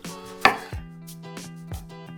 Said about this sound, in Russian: И нарезаем их полукольцами.